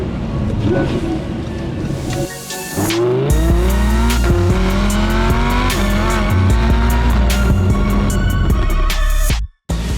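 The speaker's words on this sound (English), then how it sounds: "we are in the Audi R8 V10 Plus, and we're going to give this a quick road test" An Audi R8 V10 Plus accelerates hard on a road test, its V10 engine revving up through gears in rising sweeps with brief shift breaks, loud and close inside the car.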